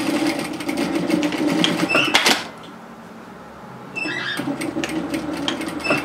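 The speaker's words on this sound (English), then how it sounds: "I'm just sewing a second row of stitching parallel to my first" A sewing machine runs a second parallel row of stitching on a cardigan, a fast rhythmic whir that stops for about a second and a half of near quiet, then starts again, loud and close.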